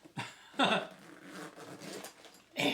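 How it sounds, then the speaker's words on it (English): The two-way zipper on a first aid kit pouch is pulled in short, close rasping strokes, three quick zips with a softer scratchy drag between them. "because I figured out I have two-way zipper"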